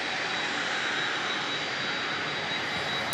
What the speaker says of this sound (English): Hawaiian Airlines coming in almost on time.